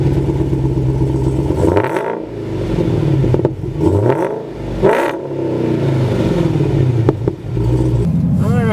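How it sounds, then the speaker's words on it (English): A 2015 Dodge Challenger Hellcat turns over and fires up with a loud, close engine roar, its revs rising and falling in several deep surges. "hit the start button, and it starts right up."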